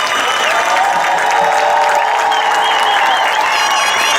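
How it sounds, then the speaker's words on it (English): Applause and cheering from a graduation crowd honoring the class of 2017, a dense, steady roar of clapping with whoops and whistles throughout, loud and sustained. "How about a big round of applause for our class of 2017?"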